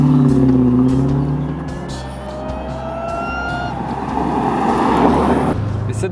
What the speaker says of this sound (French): elle fait pas du bruit cette voiture, elle chante